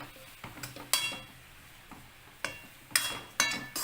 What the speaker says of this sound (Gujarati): અને હવે આપણે બધું મિક્સ કરી લેશું